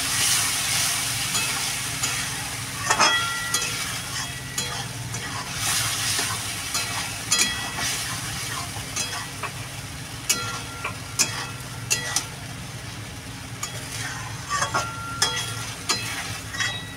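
A chilli prawn mixture in a pan sizzles and bubbles steadily after water goes in, while a spoon scrapes and clinks through it in irregular strokes, close by and with no talk.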